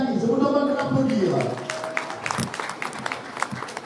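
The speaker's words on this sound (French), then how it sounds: "Je vous demande de l'applaudir." Audience applause at a conference on peace and unity in Guinea, a speaking voice at first giving way to scattered, sharp handclaps that continue for a few seconds.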